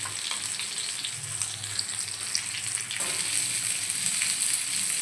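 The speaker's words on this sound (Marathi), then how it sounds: "साइडला आपण तेल सोडून घेऊया आणि मीडियम गॅसवरती आपण पापलेट एका साइडनं छान फ्राय करून घेऊया।" Rava-coated pomfret fries in oil over medium heat, Malvani style, with a dense, continuous close-up sizzle that swells slightly partway through.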